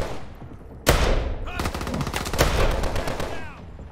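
Gunfire in the video game Call of Duty Advanced Warfare: one loud, sharp blast, then a dense, rapid burst of shots that rings out and fades.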